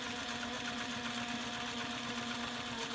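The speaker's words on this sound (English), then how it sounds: "So we're going to stitch again." A sewing machine stitches a reinforcement line along the inside of a bag seam, a steady, even mechanical hum with fast rhythmic needle chatter running throughout, moderately quiet and close, with no talking.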